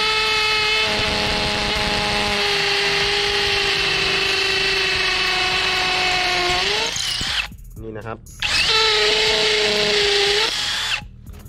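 A PUMA PM-280BL cordless brushless drill set to high mode bores into concrete, whining loud and steady for several seconds, pausing briefly, then whirring again; someone speaks briefly over it.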